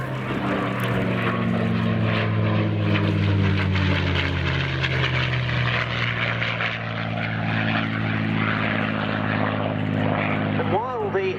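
A P-51 Mustang flies at RAF Cosford's 2019 airshow, its piston engine producing a loud, sustained propeller drone with a deep, shifting pitch as it passes. A voice talks faintly underneath.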